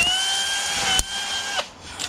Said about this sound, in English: I don't think we need our drill on kill mode